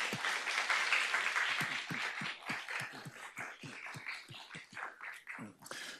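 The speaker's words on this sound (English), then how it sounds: "please join me in a round of applause and celebration of a very," An audience at a university lecture event applauds, a fairly faint, steady patter of many hands that thins toward distinct claps near the end.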